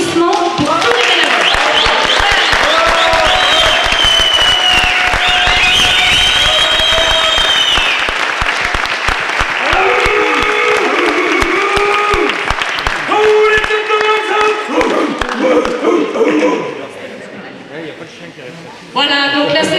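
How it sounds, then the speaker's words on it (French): At a ski race prize-giving, an outdoor crowd applauds the race volunteers with loud, continuous clapping and cheers, voices and whistles rising over it before it dies away near the end. "j'aimerais un très gros applaudissement pour tous les bénévoles"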